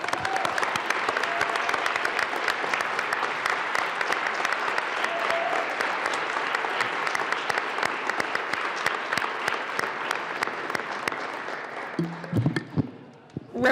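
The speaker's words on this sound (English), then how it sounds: "Please join me in a round of applause for the members of Kappa Alpha Psi." Sustained audience applause in a state legislative chamber honoring members of the Kappa Alpha Psi fraternity, a dense, steady clatter of many hands lasting about twelve seconds before tapering off into scattered claps.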